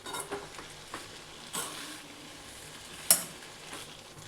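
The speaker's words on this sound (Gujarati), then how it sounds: "અને પાસ્તાને આ રીતે મિક્સ કરી દેવાના." Pasta tossed with masala in a pan over a low flame gives soft, repeated scraping and stirring strokes with a faint sizzle underneath, quiet and close, with no talking.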